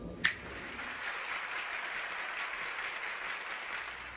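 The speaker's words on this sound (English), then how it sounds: "Somebody hit those applause." Applause sound effect played over a leopard gecko talk: a sharp snap-like burst opens, then a steady wash of dense clapping runs evenly at moderate level throughout, with no voices.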